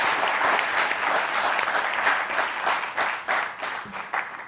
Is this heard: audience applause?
yes